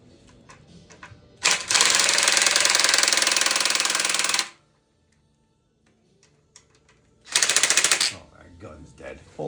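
A cordless impact gun works on the oil pan of a Jeep Wrangler in two loud, buzzing hammering bursts. The first runs about three seconds and the second is shorter, with a quiet gap between them.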